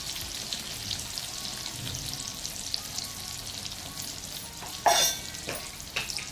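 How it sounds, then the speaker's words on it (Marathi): Spices sizzle and fry in hot oil for a Marathi-style dried Bombay duck curry, a steady close crackle with light stirring and a sharper scrape near the end, no talking. "सर्व मसाले छान असे तेलात परतून घ्या"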